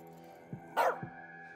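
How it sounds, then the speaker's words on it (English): A dog barks in the video game As Dusk Falls, giving a couple of short low woofs around one sharper, louder bark in the middle over a steady musical hum, with no other voices. "You, keep that dog quiet."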